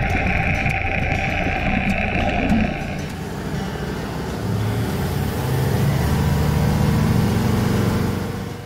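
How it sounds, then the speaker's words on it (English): A Volvo Penta D3 inline 5-cylinder 220 horsepower turbo diesel marine engine with common rail injection runs steadily, a loud continuous low rumble with mixed wind and water noise, rising slightly before easing off. "this, the new D3 inline 5, is a motor we've been eager to test for a long time"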